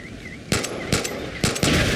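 Several loud bursts of rapid gunfire in the video game Far Cry 5, close and punchy, separated by short pauses over a faint electronic hum.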